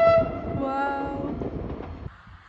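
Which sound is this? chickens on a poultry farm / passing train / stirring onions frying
passing train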